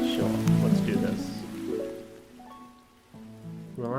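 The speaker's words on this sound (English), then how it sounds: "Relaxing Nintendo music with soft rain." Soft rain patters steadily under gentle, relaxing Nintendo-style game music, with sustained melodic tones layered over the constant wash of the rainfall.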